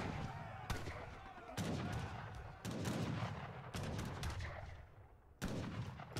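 Mortar blasts and gunfire from an Age of Empires III team free-for-all battle, loud repeated booming explosions at irregular intervals over continuous crackling small-arms fire and dense battle noise.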